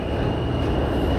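A train in service rolling along, a loud, close, continuous rumble with a steady high whine above it and no voices over it.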